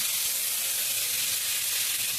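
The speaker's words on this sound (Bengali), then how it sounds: "কড়াইয়ের মধ্যে দিয়ে দিচ্ছি সাদা তেল অল্প পরিমাণ। হয়ে গেছে, তেলের মধ্যে দিচ্ছি টমেটো" Tomatoes dropped into a little hot white oil in a wok crackle into a steady, close, bright sizzle that stays even throughout, with no voices.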